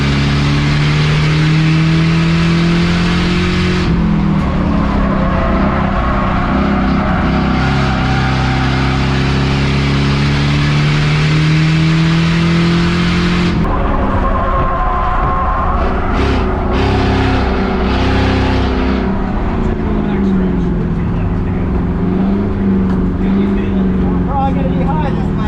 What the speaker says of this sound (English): I'm telling you, Tanner Faust, fastest car on the track right now